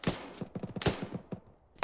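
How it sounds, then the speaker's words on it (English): Heavy gunfire from an armoured vehicle's big gun in the military game Arma: a rapid series of loud, booming rounds fired in bursts, with a short pause before a final shot. "That's a heavy gun."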